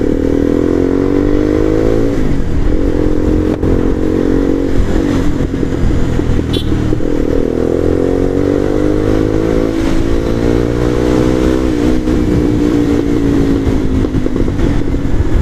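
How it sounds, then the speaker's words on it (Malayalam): A modified Bajaj Pulsar 220 motorcycle with its dB killer removed runs loud and close. A deep, rough exhaust drone holds steady throughout, swelling and dipping with the throttle, with occasional crackles and pops and no voices. "ബാക്കിൽ നിന്ന് മറ്റേ DB കില്ലർ ഊരി വയ്ക്കുന്ന ഒരു ടപ്പയെന്നാണ് പൊട്ടിക്കൊണ്ടിരിക്കുന്ന സംഭവം"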